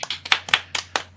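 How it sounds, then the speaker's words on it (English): An audience clapping, with about five separate loud, sharp claps in an uneven rhythm, close and clear with no talking. "Claps, everybody."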